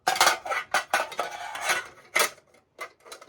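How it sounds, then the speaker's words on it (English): Metal utensils from a WW2 US Army mess kit clank and rattle together in a series of bright, irregular clinks and scrapes, close and fairly quiet, with no speech. "it'll make a lot of noise, because it's from the same, metal, and metal makes a lot of noise"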